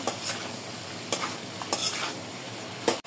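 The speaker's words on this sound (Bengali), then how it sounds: "2 মিনিটের মতো নাড়াচাড়া করে নিছি" Potatoes and green banana with turmeric are stirred and sautéed dry in a pan, a steady sizzle broken by a few sharp scrapes of the utensil against the pan and one louder knock near the end.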